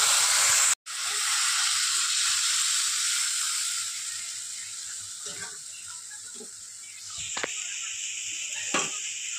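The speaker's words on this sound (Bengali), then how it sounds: "ভালো করে কষিয়ে নিয়েছি, এবার দিয়ে দেবো জল" Water poured into sautéed curry masala in a hot pan sets off a loud, sudden burst of hissing steam that holds steady, then eases into a softer sizzle with a few clinks near the end.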